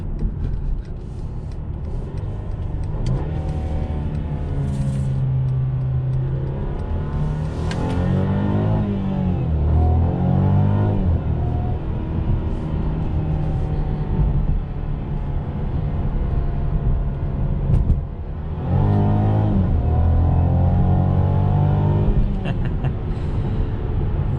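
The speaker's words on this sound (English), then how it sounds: "that 9-speed automatic transmission is very, very responsive." A 2021 Mercedes-Benz C300 Coupe with a 9-speed automatic transmission drives along, its engine rising and falling through shifts as a steady road rumble continues and a voice talks over it.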